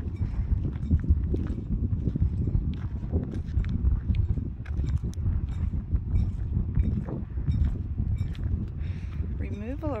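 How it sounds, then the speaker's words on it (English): Outdoor wind buffets the microphone at Meteor Crater, making a constant low, rumbling roar throughout. Faint footsteps and scattered knocks sit beneath it. "It's a little bit windy today."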